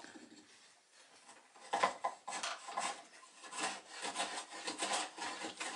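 A wood chisel smooths the groove edges of a wooden toy boat, producing repeated close rasping scrapes in uneven strokes that grow busier after a quieter start.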